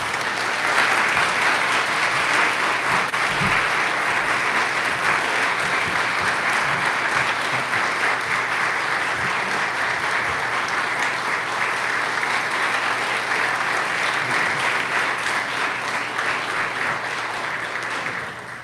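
Sustained applause from an audience at a university centennial celebration, welcoming a Distinguished Alumnus Award recipient; dense, even clapping fills the room at steady loudness for the whole stretch, tapering slightly at the end, with no talk over it.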